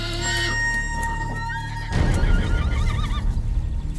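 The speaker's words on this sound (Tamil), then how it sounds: "குதிரை மட்டும் நிக்குது" A horse whinnies loudly and close by, its wavering, trilling neigh rising and falling, with a low rumbling background under it and no talk.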